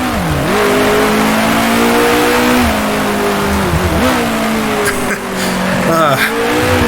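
A 1966 Formula One race car in the Grand Prix Legends game at the Dutch Grand Prix: a loud, continuous engine howl rises in pitch, drops sharply at each gear shift, then climbs again, with brief tire noise.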